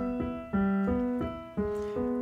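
A piano plays a short passage from Beethoven's Moonlight Sonata, with sustained notes struck in a slow rhythm of about five soft attacks, close and clear, no voice.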